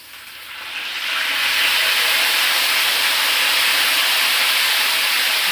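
Meat goes into a hot pot for biryani and sets off a loud hissing sizzle that swells over the first second, then holds as a dense, steady steam-like roar.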